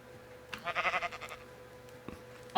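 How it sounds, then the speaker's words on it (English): A single short sheep bleat in Minecraft, fairly faint, over a low steady background hum, followed by quiet with a small click near the end. "A swimming sheep."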